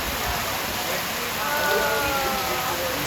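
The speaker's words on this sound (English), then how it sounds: "It is pouring rain." Pouring rain during a rural Vietnam motorbike tour, a dense steady hiss of falling water with faint voices underneath.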